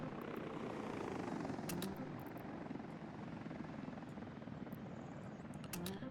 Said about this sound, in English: We can get some helicopters out here.